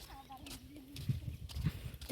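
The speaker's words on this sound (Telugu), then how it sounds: "బర్రెలు ఇప్పుడే ఇంటికి పోతానే పాపం మేషి మేషి ఇంటికి పోతానే బర్రెలు కూడా" Buffalo hooves clip-clop along at a walking pace as the herd passes nearby heading home, with a voice speaking over the plodding steps.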